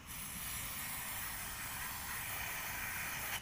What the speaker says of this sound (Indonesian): kita semprot lagi seperti ini